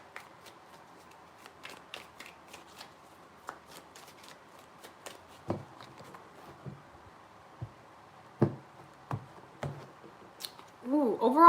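Tarot cards are shuffled by hand close up, giving soft scattered riffles and taps with a sharper flurry of card noise at the end.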